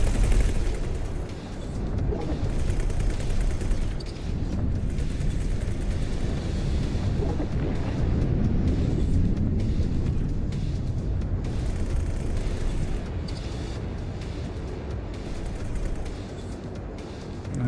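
Spaceship turrets in the space game X4 Foundations fire in a dense, continuous barrage of booming blasts and crackling bursts that stays loud throughout, with no talking over it.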